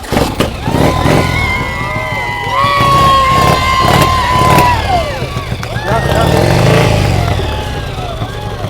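A custom motorcycle built from scaffolding parts starts up and revs, its engine rising and falling steadily near the listener while people talk and cheer around it.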